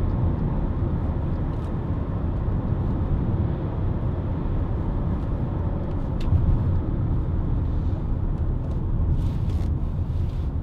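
Skoda Yeti 1.6 TDI diesel driving on a bumpy road, a steady loud cabin rumble of engine and road noise throughout, with no talk.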